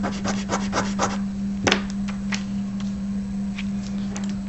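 Paper being rubbed to transfer a pencil drawing: a series of light, quick scratchy strokes followed by a few sparse rubs, close by over a steady low hum.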